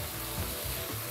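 Maruchan salt yakisoba noodles with pork belly and onion are tossed in a hot pan, giving a continuous sizzle with soft scraping stir strokes, brief and close, with no talking.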